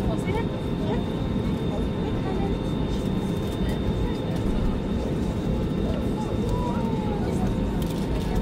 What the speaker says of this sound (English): We're in the plane!